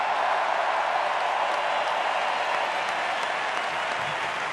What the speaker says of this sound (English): How about a tremendous round of applause for these folks out here,